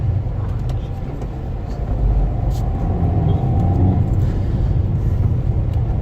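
Cars passing on a road, a steady low traffic rumble with engine noise that swells slightly midway, heard up close from the roadside.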